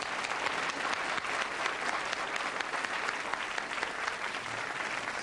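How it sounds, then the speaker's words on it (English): A theatre audience claps and cheers for Ron Dixon, a dense, steady burst of applause filling the room for several seconds with no voices standing out. "let's give him a big round of applause for Ron Dixon"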